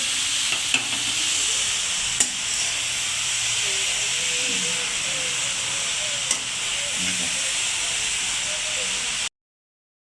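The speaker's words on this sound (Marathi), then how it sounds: "पूर्ण असा तुपात हलवून घेतलाय" Grated carrot fries in ghee for carrot halwa with a continuous hissing sizzle and occasional sharp stirring scrapes, then cuts off abruptly into silence.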